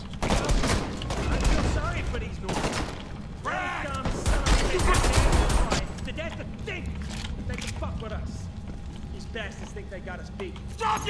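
Gunfire during a firefight in Homefront The Revolution, heavy rapid shooting over the first half then lighter scattered shots, with shouted voices and talk over the combat.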